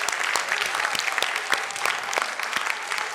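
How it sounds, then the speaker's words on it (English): A school audience applauds after student performances at an annual concert, with dense, lively clapping and crisp individual claps popping out of a loud, sustained wash. "please give them a big round of applause"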